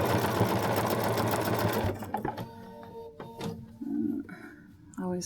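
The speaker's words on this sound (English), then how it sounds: "we're just going to real quickly sew up this set of darts." A sewing machine stitches darts on a fabric bowl cozy, a fast, loud mechanical whirring run that stops after about two seconds, followed by quieter clicks, fabric handling and short bursts of motor hum.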